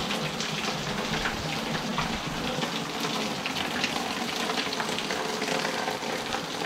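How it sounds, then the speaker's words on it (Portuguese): Heavy rain pours steadily on a farm, a dense, even hiss with no pauses that fills the whole stretch at constant loudness, with no voices. "É, pessoal, agora choveu mesmo, ó."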